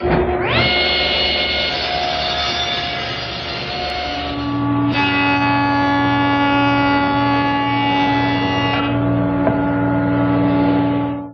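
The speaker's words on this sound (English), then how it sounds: "and then run it again through the joiner" A jointer planes a board edge for a French side table in a woodworking shop: a loud, steady motor whine with strong harmonic tones runs throughout, its pitch shifting as the cutterhead takes the wood, then spinning down at the end.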